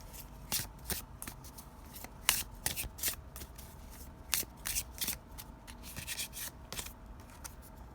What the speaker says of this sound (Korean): 그러면 오라클 카드를 뽑아 볼게요.